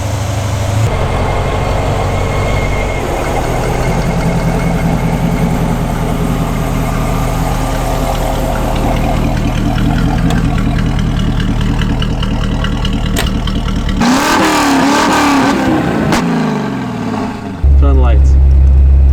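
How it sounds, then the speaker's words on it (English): A flame-throwing Jaguar car's engine runs loud and steady, holding a rough idle-to-rev drone through most of the stretch, then surges and shifts near the end; the engine sound dominates, with no clear talk. "It runs out of juice really fast, so you gotta keep the engine revving."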